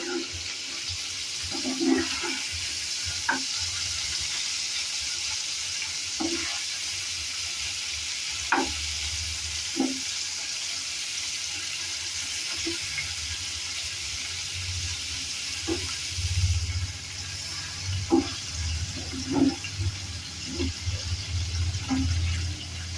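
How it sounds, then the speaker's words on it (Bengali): Homemade paneer pieces frying in oil make a steady bubbling hiss, broken by scattered soft pops and taps from the pan. The sound stays at an even level throughout with no voices. "দেখুন পনিরগুলো ভাজা হয়ে গেছে এর বেশি আর ভাজবো না"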